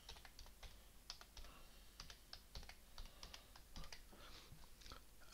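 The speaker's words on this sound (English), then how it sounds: "I don't want to show what I'm typing in." Quiet, close typing on a computer keyboard, a rapid irregular run of light clicky keystrokes in short bursts with brief pauses, alone in a still room.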